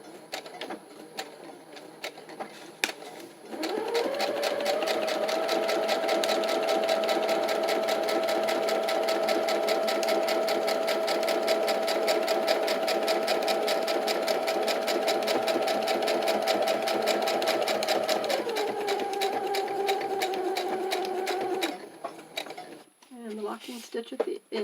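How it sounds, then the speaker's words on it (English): A sewing machine stitches down the back piece of a junk journal, running in one steady, close whirring hum for about twenty seconds before it slows and stops. "now we're going to sew down this and close up this back piece"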